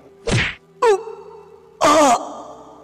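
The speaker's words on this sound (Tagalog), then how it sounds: "Sabay untay naman ng malakas na suntok kay Bato." Punch sound effects in a Filipino audio drama: three hard, close whacks land in quick succession, each followed by a brief groaning, ringing tail.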